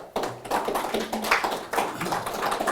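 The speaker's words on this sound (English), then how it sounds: "So a round of applause, please, for Liz and Nigel." Audience clapping at a chess masterclass in Gibraltar, a lively patter of many hands starting abruptly and continuing with an uneven, tapping rhythm.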